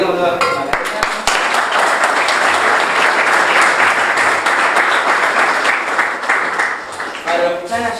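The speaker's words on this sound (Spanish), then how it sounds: "Aplaudimos nuevamente." An audience at an outdoor field day at an agronomy faculty claps in dense, sustained applause for several seconds, loud and close, fading slightly at the end, with a voice speaking briefly around it.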